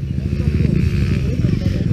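An XR dirt bike engine rumbles steadily nearby with a rough, throbbing idle on a trail ride, while people talk over it throughout.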